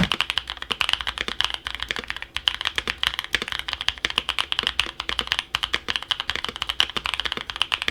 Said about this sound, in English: here's a quick sound test of the tactile version of the Boba switches